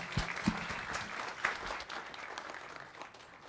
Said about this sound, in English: let's have a round of applause for Guido